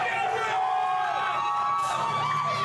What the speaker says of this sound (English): Crowd is going wild for Vince right now.